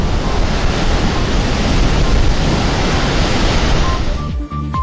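Torrent of water from a NASA launch pad deluge system, hundreds of thousands of gallons pouring out in a steady, loud, broadband roar that holds for several seconds before cutting off sharply near the end.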